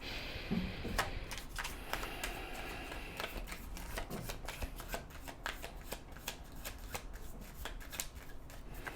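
Oracle cards are shuffled by hand at close range, giving a quick run of crisp riffling snaps and soft slides that repeat irregularly for several seconds with no talking.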